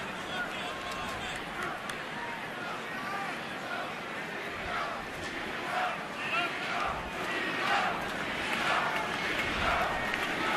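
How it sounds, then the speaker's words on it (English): Spectators at an MLB baseball game between Miami and Washington holler and cheer for pitcher Gio Gonzalez in cold weather, a steady distant crowd roar with rising shouts, no clapping, throughout. "Hard to clap in this weather, so they're hollering Gio"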